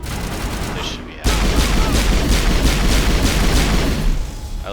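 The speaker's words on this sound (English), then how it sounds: "I like how I'm just shooting up the bartender." Gunfire in the video game Mass Effect: after a brief steadier stretch, a loud, dense and continuous barrage of shots breaks out and keeps going, with a voice talking.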